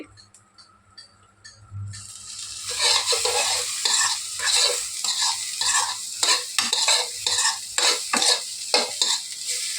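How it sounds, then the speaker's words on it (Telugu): Sweet corn being stirred in a frying pan: a soft start, then a loud, close sizzle with rapid scraping and clinking of the spoon against the pan, steady until the end, no voices. "స్వీట్ కార్న్ అయితే ఫ్రై అయిపోయింది"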